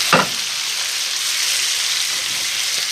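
Tournedos Rossini beef fillet sizzles steadily in a hot pan as its fat melts, a dense, continuous frying hiss heard up close with a brief clatter at the start and no talk over it.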